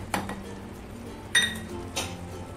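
Metal lid lifted off a pan of simmering tondali (ivy gourd) bhaji, with a few sharp clinks and scrapes of a spoon adding crushed peanut powder, spaced apart over a low kitchen background.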